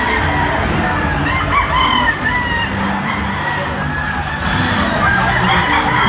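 Several gamefowl roosters crow amid a busy, crowded game farm show, their calls overlapping with steady background chatter and noise, close and fairly loud throughout.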